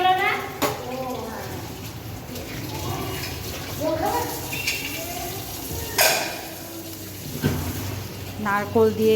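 Chickpea dal simmers in a pan as fried spices go in, with a steady close sizzle and occasional scraping stirs while a person talks over it.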